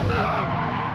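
Race car tires skidding under very late braking in a sim racing game, a loud continuous scrub and squeal lasting the whole second.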